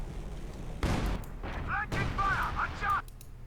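A Flak Panzer fires rapid bursts at infantry in a Company of Heroes-style strategy game, a couple of loud crackling volleys of gunfire with smaller pops, mixed with battle noise.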